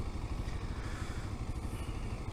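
A Kawasaki KLR 650 dual sport motorcycle's single-cylinder engine chugs steadily nearby, a continuous low, rough rumble with no voices.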